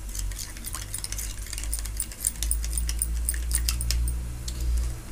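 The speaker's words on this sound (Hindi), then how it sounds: "फिर इन सबको अच्छे से मिक्स कर लेते हैं।" A spoon stirs and mixes tangra fish with chili and turmeric in a pan, making repeated light metallic scrapes and clinks over a steady low background hum, with no voices.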